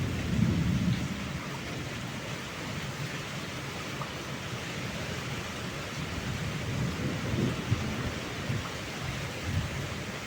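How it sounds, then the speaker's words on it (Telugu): Thunder rolls in low, continuous rumbles through steady rain on a blustery, windy day near mango and custard apple trees, the storm loud and broad with no voices. "ఉరుములు ఉరుముతున్నాయి"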